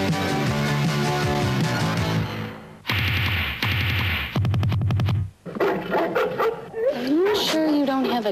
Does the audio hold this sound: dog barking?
yes